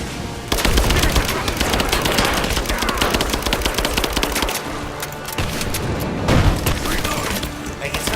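Dense automatic gunfire from the video game Rise of the Tomb Raider rattles on continuously in loud bursts with booming impacts, no pauses between the volleys.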